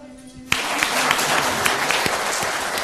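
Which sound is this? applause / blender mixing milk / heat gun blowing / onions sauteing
applause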